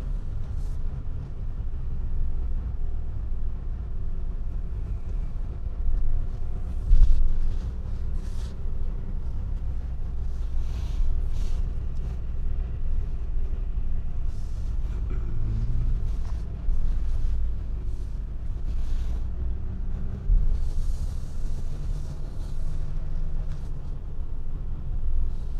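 A 2020 Mercedes-Benz Sprinter 2500 cargo van, 170 wheelbase, high roof, 4x4, idles and rolls slowly around a parking lot, a steady low engine hum with faint wind noise throughout.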